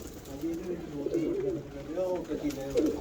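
Pigeons at a breeder's loft, including a prized spotted bird, coo in low, rolling bursts close by, repeating throughout under a voice talking over them.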